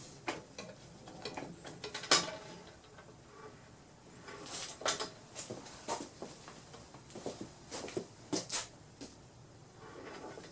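Loosening the adjustment on a homemade camera boom gives close, irregular mechanical clicks, ratcheting ticks and small creaks, heard alone with no talk.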